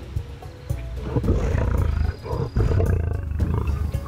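A lion roars deeply and continuously in the Okavango wilderness, a loud, rumbling growl that swells and surges across four seconds with no talk over it.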